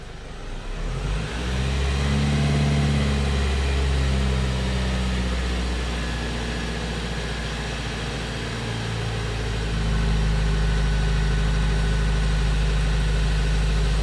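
Car engine idling at about 750 rpm, then revved and held steady near 1500 rpm with the EGR motor reading closed, a loud, close, continuous mid-pitched hum that rises and settles with no one talking.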